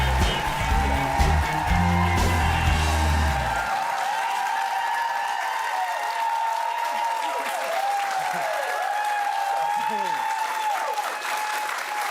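A studio audience applauds the singer, loud sustained clapping filling the whole stretch, with music playing at first and a presenter talking over it.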